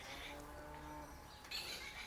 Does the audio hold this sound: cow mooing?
yes